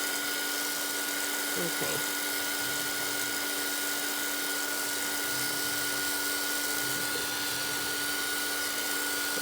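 A heat tool drying wet paint on chipboard gives a constant loud whirring blower hum with a steady whine, running unbroken from start to finish while a voice speaks briefly underneath.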